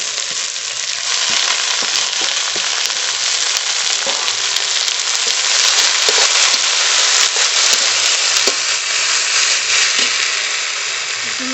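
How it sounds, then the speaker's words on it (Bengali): Chopped jute leaves fry in a hot pan with a loud, steady, rain-like sizzle heard close up for the whole stretch, scattered with small crackles and the odd stir, and nobody speaking. "কুচানো পাট শাক দিয়ে দেবো"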